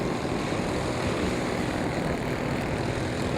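World Formula four-stroke racing kart engines drone in a steady, unbroken roar during a kart race main event, a dense blend of several engines heard from a moderate distance with no talk over it.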